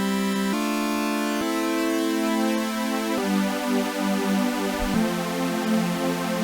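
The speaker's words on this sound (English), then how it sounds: "what happens when you start detuning all of those sawtooth waves compared to each other?" A detuned supersaw synthesizer sound, built from many sawtooth waves, plays a sequence of sustained chords. Each chord steps to a new pitch and has a thick, shimmering, chorused buzz, with no voices over it.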